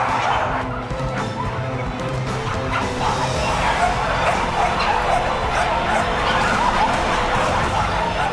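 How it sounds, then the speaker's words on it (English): Hundreds of dogs kept in rows of cages at a large dog breeding operation bark, yip and whimper together in a dense, continuous din, many voices overlapping near and far. "hundreds of dogs, row upon row of cages"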